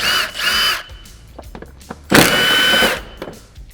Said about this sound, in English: So now we're going to remove this T40 Torx here, this one here.